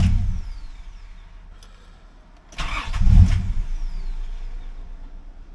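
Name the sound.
2003 Nissan Pathfinder engine starting then stalling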